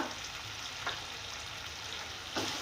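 Roasted crushed coriander and cumin sizzle softly with potatoes in a pan, a low steady frying hiss broken by a couple of brief stirring scrapes, with no voices.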